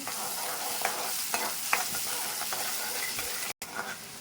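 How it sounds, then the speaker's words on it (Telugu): Chopped onions frying in a pan for a broad bean curry, a steady close sizzle with soft stirring scrapes and clinks throughout, no talking. "మనకి కొద్దిగా ఆనియన్స్ అనేది కొద్దిగా వేగాలండి"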